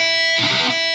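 Unmuted electric guitar strings ringing as noise during sweep picking, a brief wash of sustained string buzz swelling and fading over a steady high hum, with no talk.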